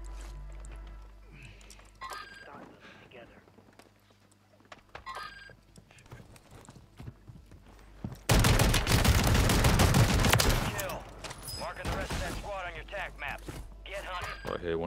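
Sniper and other gunfire in Call of Duty Warzone from a stadium: a dense, loud burst of shots around the middle, with scattered quieter gunfire before and after and people talking throughout.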